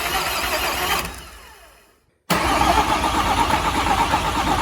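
A Volkswagen Transporter van engine being cranked by its starter motor during wiring repair: a steady churning whir fades to a brief silence, then a loud, dense, continuous mechanical roar resumes up close.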